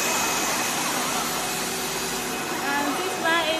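Machinery of a plastic profile soft and hard co-extrusion line for refrigerator glass clip strip, including extruders, sizing and cooling tank, haul-off and packing machines, giving a steady loud industrial hum and whir with faint tonal whines near the end.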